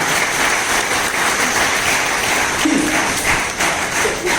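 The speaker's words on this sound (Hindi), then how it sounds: "एक तालियां बनती हैं डिप्लोमा और एनसीओ के बच्चों के लिए" Applause from an outdoor crowd at an Independence Day sports and fitness event in Kolkata, held despite rain, for diploma and NCO students; steady, dense clapping throughout with a few louder taps.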